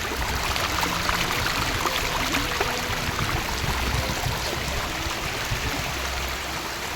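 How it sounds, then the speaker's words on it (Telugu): Water rushes through the slightly opened gates of the Gajuladinne project dam, a steady, dense hiss and roar that holds even and continuous, close by, with no voices. "వాటర్ సౌండ్ ఎలా వస్తుందో మీరే చూడండి ఒకసారి."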